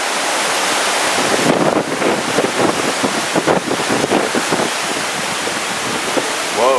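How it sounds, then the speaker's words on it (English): Strong wind during Hurricane Sandy at night in Bryn Mawr, Pennsylvania roars as a loud, continuous rush buffeting the microphone, surging and gusting unevenly with no voices. "Wind's come up quite a bit."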